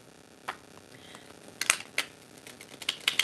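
Close, quiet shuffling of a tarot deck, with sparse soft rustles that build into clusters of sharp clicking riffles and taps toward the end.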